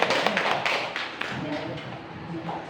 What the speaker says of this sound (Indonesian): Beri tepuk tangan yang meriah untuk komisi pertama